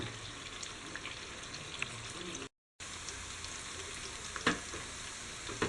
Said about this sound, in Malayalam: മീൻ വറക്കാനായിട്ട് ഇട്ടു.